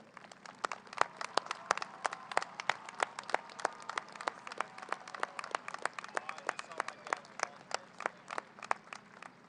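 Audience at the Southmoore 2020 high school graduation ceremony applauding parents and guardians: many hands clapping in a fairly quiet, slightly distant, sustained patter that continues steadily throughout.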